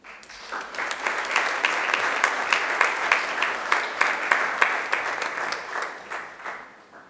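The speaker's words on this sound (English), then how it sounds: "Applause." Graduation ceremony crowd at Macquarie University applauding steadily for about seven seconds, dense clapping with a few sharper individual claps, no talking.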